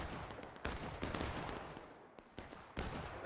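Scattered musket fire from independent shooting in the video game War of Rights, irregular cracks at varying distances, some sharp and near, others softer and distant, with no talk.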